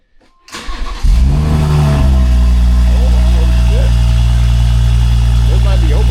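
A BMW engine cranks and fires up for the first time through a new loud aftermarket exhaust, then settles into a steady, deep, rumbling idle that stays loud and close to the end.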